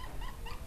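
At a dog farm keeping Labradors, a Pomeranian and puppies, a dog gives soft, high whimpers and yips in quick short bursts. They sound faint, brief and fairly close.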